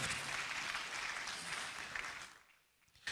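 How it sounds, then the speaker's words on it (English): Audience applause at the Asantehene Otumfuo Osei Tutu II Art Awards ceremony, a dense, steady wash of many hands clapping that fades away near the end. "A round of applause one more time for Mr. Edmond Mkwala."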